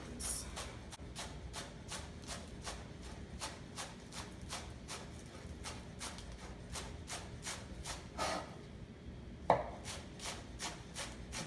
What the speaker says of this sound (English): I'm gonna finely mince, or finely slice our green onions